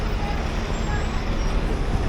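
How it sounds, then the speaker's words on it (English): A London bus passing on busy Oxford Street, a steady loud rumble of engine and roadway noise that fills the whole stretch, with traffic and crowd ambience close by. "Look at that Harry Potter bus."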